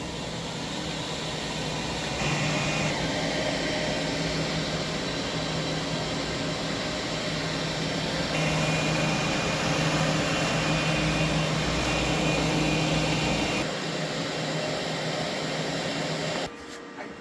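An HP Latex print-and-cut printer finishes a print with a continuous mechanical whir and fan hum. Carriage passes shift the tone in steady blocks before it winds down near the end, and no one speaks.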